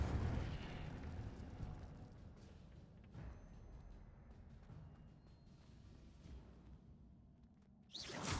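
A fiery Incendio spell cast in a Harry Potter video game, a loud whooshing burst that fades into a rumbling tail and then a fresh blast near the end.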